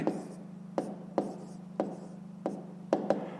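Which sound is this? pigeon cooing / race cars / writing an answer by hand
writing an answer by hand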